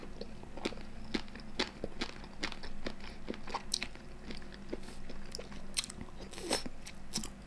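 Crisp crunching bites and chewing of large pickled red shrimp in seafood dipping sauce, close to the mic, with repeated sharp cracks in an uneven rhythm and no talking.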